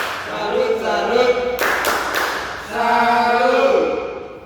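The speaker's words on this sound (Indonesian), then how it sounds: "Kita berikan tepuk salut dulu." A school class does a rhythmic 'tepuk salut' clap, chanting the words aloud together with a burst of sharp, close claps in the middle.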